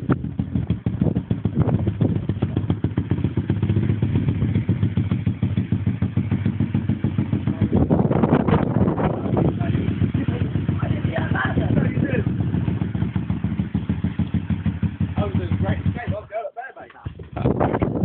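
A pit bike engine runs close by, idling and revving unevenly as a learner pulls away, with clattering and thumps, a short dropout near the end, and voices talking over it.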